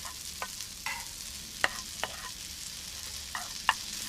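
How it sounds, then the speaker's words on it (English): Sliced mushrooms cooking in a pan for risotto, a quiet low sizzle broken by scattered spoon clicks and stirring scrapes, fairly faint with no talking. "add 300 grams of sliced mushrooms and continue to cook for 2 minutes"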